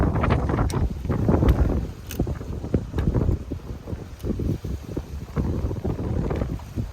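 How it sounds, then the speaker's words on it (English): Strong wind buffets the microphone in gusty, rumbling waves throughout, loud and close, with no talking. "It's windy today"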